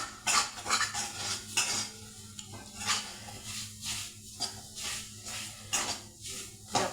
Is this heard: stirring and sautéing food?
yes